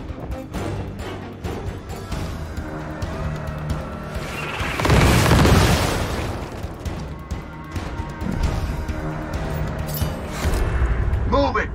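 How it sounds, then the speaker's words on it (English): Bomb blasts in the tactical video game Gears Tactics, one heavy booming explosion swelling midway through a busy mix of game effects and ongoing voices talking. "More bombs on the way!"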